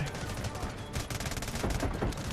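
Rapid bursts of gunfire from a Delta Force Mobile firefight ring out continuously, dense overlapping shots close and loud, with faint voices mixed underneath.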